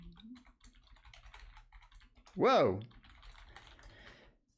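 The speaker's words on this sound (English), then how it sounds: "My typing skills are challenged." A computer keyboard gives quick, light, irregular taps, close and fairly quiet, with a brief exclamation from a voice cutting in partway through.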